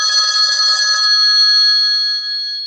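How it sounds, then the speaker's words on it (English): A telephone rings in a call-in radio studio, a single loud, steady electronic trill that sustains and then settles into a held tone, with no voices over it. "Let's get Matt back on the phone here somehow."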